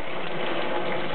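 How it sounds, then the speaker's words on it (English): Tap water trickling steadily while a photographic print is rinsed, a continuous soft wash of running water, fairly close and alone without any talk. "So I usually rinse the print, keep the water in a trickle"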